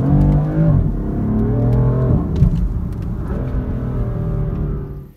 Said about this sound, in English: today we have the top of the range, the BMW M4, so let's test this out properly